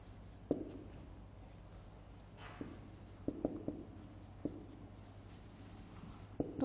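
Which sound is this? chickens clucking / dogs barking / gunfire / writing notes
writing notes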